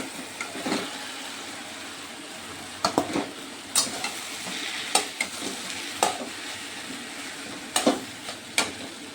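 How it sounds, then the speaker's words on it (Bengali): Taro (maan kochu) fries with spices in a pan under a steady, close sizzle, broken by repeated sharp scrapes and taps of a spatula stirring the pieces. "এখনো আমি এগুলোকে একটু ভেজে নিচ্ছি, কচুগুলোকে মশলা দিয়ে কষিয়ে নিচ্ছি"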